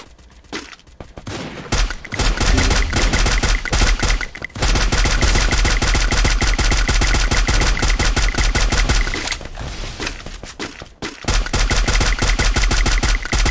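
Rapid automatic gunfire in the Free Fire battle royale video game, loud dense bursts that run almost continuously with a few brief gaps, close and harsh, no talking.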